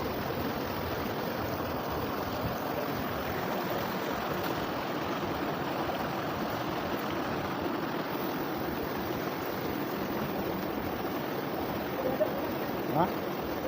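Spring water pours steadily out of cave rock in a continuous broadband wash, fairly close and even throughout, with a few faint voices in the background.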